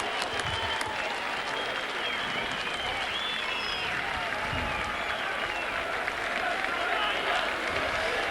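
A rugby league crowd at a Whitehaven versus Workington match applauds and cheers in a dense, continuous roar that stays loud and even throughout, heard from within the stands.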